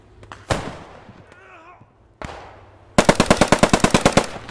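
Gunfire in the WWII shooter game Post Scriptum on the Arnhem map: two single sharp shots with short decaying tails, then a loud rapid burst of about a dozen evenly spaced automatic rounds, close and with no talk over it.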